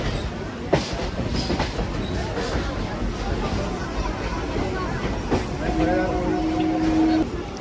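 A passenger train at New Delhi station, bound for Ghaziabad, rumbles loudly and continuously with rail clatter and a few sharp clanks, then a sustained wheel squeal near the end, over faint crowd babble.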